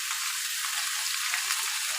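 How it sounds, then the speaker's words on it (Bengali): Pumpkin sautés in a pan with spices, giving a steady bright hiss of frying with no pauses, close and fairly loud across the short stretch. "কুমড়ো দিয়ে আবার একটু কষিয়ে নেব"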